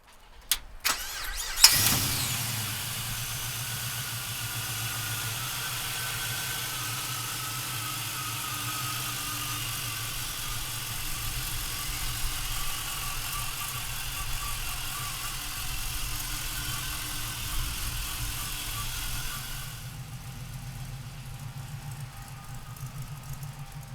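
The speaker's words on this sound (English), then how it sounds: "we'll fire this LS power up now" A 1969 Chevrolet Camaro with an LS V8 cranks briefly and fires, catching with a sharp bark before settling into a steady, even idle with a couple of small revs, then cutting off near the end.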